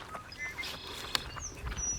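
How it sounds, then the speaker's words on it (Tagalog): Faint bird chirps and short whistled calls scattered across a quiet outdoor wetland scene at Parkland Beach near Gull Lake, distant and sparse over low background noise. "Rinig na rinig mo yung mga huni ng ibon."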